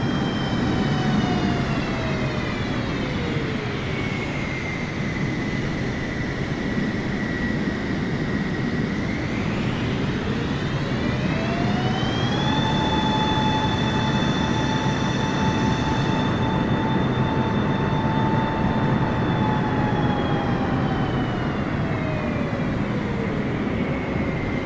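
A propeller-type airliner roars close by during landing at Bocca di Falco airport in Palermo, with a loud steady engine drone whose pitch slides down and up as power changes, and no talk.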